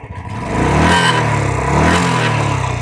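A gun-metal classic Royal Enfield motorcycle with its stock company silencer starts up and settles into a smooth, steady running rumble close by, with a slight rise in revs partway through.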